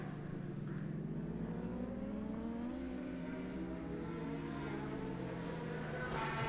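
Superbike racing motorcycles in a Masters Superbike Championship race pull out of a corner, a steady layered engine drone with rising pitch as they accelerate away, continuous and fairly distant.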